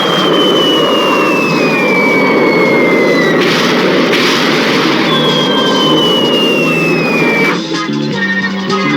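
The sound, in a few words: bomber aircraft engine roaring overhead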